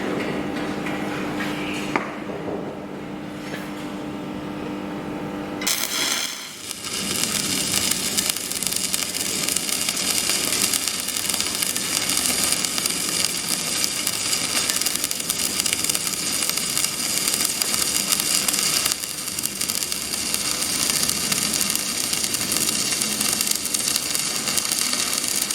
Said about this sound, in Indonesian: saya akan memberikan contoh las sambungan tumpul dengan ampere yang tinggi,